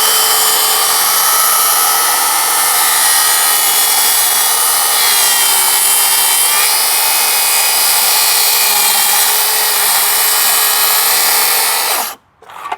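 A circular saw plunge-cuts into wood, a loud continuous high whine with shifting tone as the blade is pushed along, cutting off abruptly near the end.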